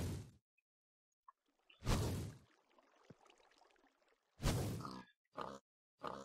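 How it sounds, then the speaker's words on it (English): Pigs grunting in a Minecraft-style farming game, several short loud grunts and snorts in separate bursts with quieter scuffling and a swish between them, no talk. "We'll get the pigs in here."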